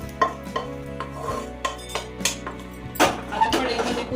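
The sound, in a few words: fried onion scraped from pan into a plate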